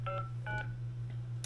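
Telephone keypad tones beep as a conference call is dialed, two short bursts close together, then a faint third, over a steady low electrical hum.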